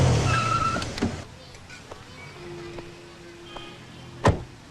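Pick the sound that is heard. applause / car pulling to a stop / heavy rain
car pulling to a stop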